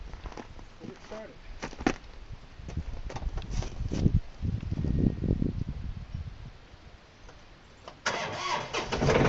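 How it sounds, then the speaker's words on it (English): A tractor engine cranks and starts on a farm woodlot outing, catching and rising to a rough idle, with people talking over parts of it. "Then we'll start up the tractor, let it warm up a little bit"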